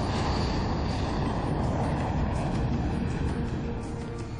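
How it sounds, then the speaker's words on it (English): The jet engines of a Lockheed C-5 megaplane roar as a loud, steady broadband rush that holds at full strength throughout, with no talk over it. "The exhaust tail blows the air discharge out, propelling the plane forward."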